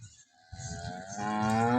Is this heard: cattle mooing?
yes